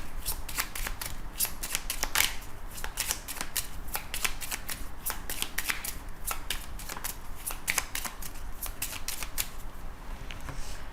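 Lenormand cards are shuffled and cut for a love reading, a continuous soft riffling and slapping of card stock, close and quiet, with rapid irregular flicks running steadily throughout and no voice.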